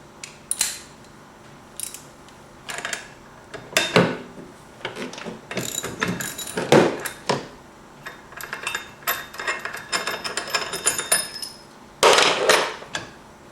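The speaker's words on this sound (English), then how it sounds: "We'll take our 13/16, remove the clutch bolt." A 13/16 ratchet clicks and cranks while removing the clutch bolt from a Ski-Doo REV primary clutch, giving irregular bursts of sharp metallic ratcheting and tool knocks, close up with no talking.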